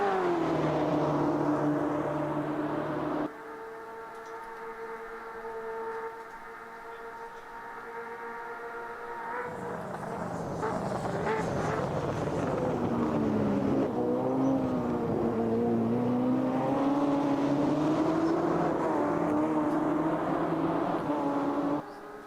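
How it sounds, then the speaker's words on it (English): Race car engines drone and whine at Spa in a racing video game, with a steady sustained tone that shifts pitch as cars pass Blanchimont, continuous and moderately loud with no talk. "as Harvey brings them down Blanchimont on this opening lap of resuming racing"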